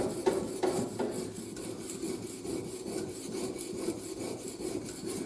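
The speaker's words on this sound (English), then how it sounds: "So back onto my stone, in that gap there, and then up and down with it again" French skirt shave blade rubbed up and down on a sharpening stone, a steady rhythmic rasping scrape repeated at a regular pace, close and fairly quiet.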